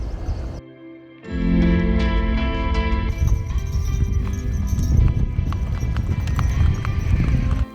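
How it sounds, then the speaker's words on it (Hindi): A horse ridden across green fields near Thajiwas Glacier in Kashmir clip-clops with quick, steady hoofbeats that start after a short pause and continue close and loud, with music playing along. "ग्रीन फील्ड्स मिलते ही मन हुआ कि थोड़ा घोड़ा दौड़ा लिया जाए।"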